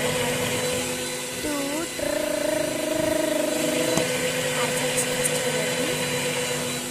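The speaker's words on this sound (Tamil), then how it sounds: "பால், முட்டை, பிஸ்கெட்டு மிக்சியில் போட்டு 2 அரட்டுன்னு அரைக்கலாம்" A kitchen mixer grinder blending milk, egg and biscuits, its motor whining with a steady pitched hum that shifts as the load changes, close by.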